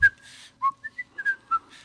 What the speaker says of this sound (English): The only thing I forgot to do was whistle.